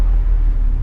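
A Mercedes-Benz SL320 (R129) car engine rumbles low and steady up close, a deep continuous growl with no other sounds.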